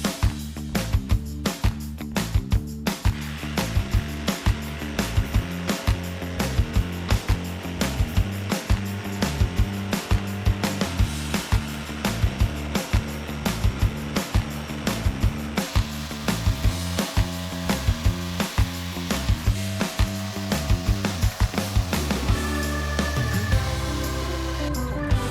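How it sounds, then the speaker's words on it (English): Jigsaw cutting a large wooden gingerbread man figure for outdoor Christmas decor, a loud, steady buzzing drone with dense rapid blade strokes, running nearly continuously and close by with no talking. "So I'm just gonna use my jigsaw to cut it out."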